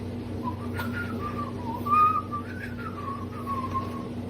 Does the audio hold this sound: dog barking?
no